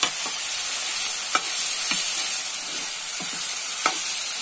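Aloo matar sizzles on a sigdi stove, a steady bright crackle of frying with scattered pops and a few stirring scrapes. It stays close and continuous, with no voices.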